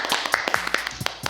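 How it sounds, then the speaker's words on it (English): A few podcast hosts clap in the studio, a quick run of close, irregular hand claps mixed with short vocal exclamations. "Clap it up, clap it up, clap it up."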